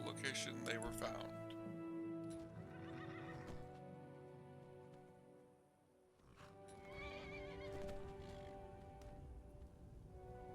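A horse in Skyrim lets out a loud whinny and snorts, with clip-clop hoofbeats, then neighs again after a brief lull, set against a steady game music drone.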